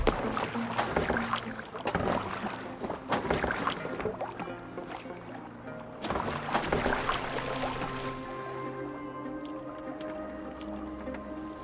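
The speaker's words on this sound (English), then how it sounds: "Are you well enough to steer this boat?" A Viking boat is steered through water in Assassin's Creed Valhalla, with repeated splashing oar strokes and creaking wood under ambient game sound, fairly quiet and rhythmic before settling into calmer lapping.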